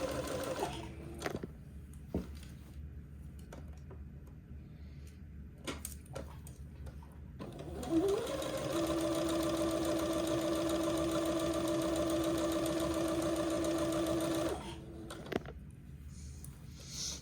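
Sewing machine stitching elastic casings along a garment leg edge, starting with a few scattered handling clicks and short bursts, then a steady, close, droning motor hum with needle chatter for about six seconds before stopping.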